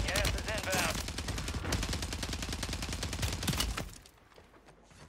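Rapid AMR 9 fire in Warzone 3 on Rebirth Island, a dense run of sharp shots in quick rhythm lasting several seconds before cutting off to near quiet, with brief voice at the start.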